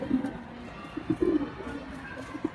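A young racing pigeon gives soft, low repeated coos close by, in short murmuring phrases over faint background noise.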